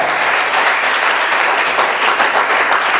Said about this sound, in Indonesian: Berikan sorak-sorai buat Tuhan yang dahsyat luar biasa.